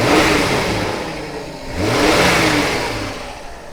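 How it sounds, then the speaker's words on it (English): A Ford Granada Mk2 2.8 Ghia engine revs up, eases off, then climbs again in a smooth, fairly loud mid-pitched swell, with no one talking over it. "you can appreciate the noise of the engine."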